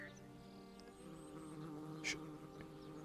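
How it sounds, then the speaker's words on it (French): Bees buzzing in the video game Bellwright, a continuous faint droning hum with layered tones and a short louder buzz near the middle, no voices. "je suis sûr que les abeilles qu'on entend là"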